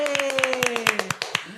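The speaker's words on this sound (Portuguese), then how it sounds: "Palmas para nós." Several people clap their hands together in a quick, lively burst, with a sustained tone running underneath.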